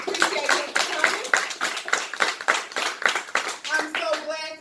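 A comedy-night audience claps for a comedian, a loud, close, rhythmic patter of many hands that keeps up throughout, with a voice starting to speak as it trails off.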